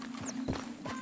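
Horse hooves clip-clopping in Red Dead Redemption 2, a few soft footfalls at a walking pace under a steady tone, with brief talk.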